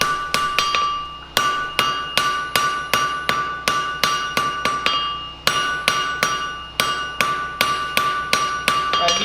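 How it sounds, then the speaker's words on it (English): Steady, rapid hammer blows ring out on small steel stock at a blacksmith's forge, bright metallic strikes repeating in quick rhythm with a brief pause midway, close and loud. "This is small stock, so we're just kind of lifting and dropping the hammer."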